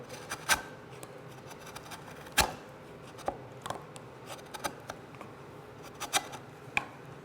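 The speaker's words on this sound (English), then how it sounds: "So I like to pare that back just a hair." A chisel pares the walls of a wooden mortise for a bench in short, crisp scraping cuts, about a dozen irregular strokes heard close up against quiet background.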